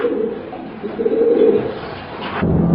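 Racing pigeons cooing in a loft, close and clear, a few soft rolling coos in sequence with no talk.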